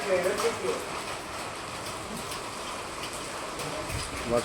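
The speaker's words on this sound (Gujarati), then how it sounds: "વરસાદ" Steady village rain patters down as a broad, even hiss, continuous throughout with no clear pauses.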